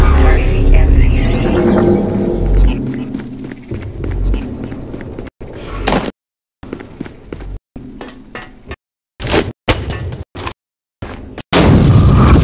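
A null cannon fires at the MCC in Dust 514, with heavy booming artillery blasts and rumbling impacts, loud and close, in repeated bursts broken by abrupt silences.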